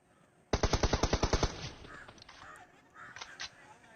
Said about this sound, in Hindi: फिर मैं गगन से कहता हूँ कि मुझे कवर फायर दे।